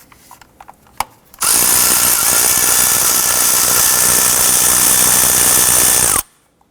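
A power tool runs on an EGR upper plate bolt of a 1993-1997 Ford Ranger. A few light clicks and taps come first, then a loud steady high whirring burst lasts about five seconds before stopping abruptly.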